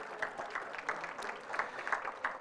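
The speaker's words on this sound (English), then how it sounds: "Give God a hand clap, would you please?" A church congregation applauds at an Easter Sunday service, a moderate stretch of scattered hand clapping that rises and falls in soft bursts across the room.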